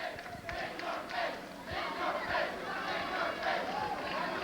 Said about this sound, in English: Potsdam crowd picking up a chant of "in your face."